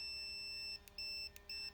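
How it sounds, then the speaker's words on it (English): A multimeter gives a continuity beep as its test leads touch, three steady electronic tones with short gaps between them, close and clear over a faint background. "listen, hear the beep?"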